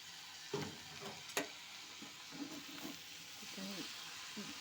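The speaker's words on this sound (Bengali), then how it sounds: "গ্যাসটাকে মিডিয়ামে রেখে আমি নেড়ে চেড়ে আবার কিছুক্ষণ হতে দেব।" Spinach stem curry stirred in a pan over a medium gas flame, soft sizzling hiss with intermittent scraping and stirring clinks, fairly faint and close.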